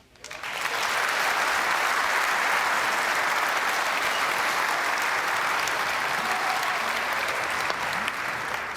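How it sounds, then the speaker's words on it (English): A snooker crowd breaks into sustained, loud applause that swells within the first second and holds steady as a dense, even roar of clapping to the end. "a terrific round of applause from the crowd here"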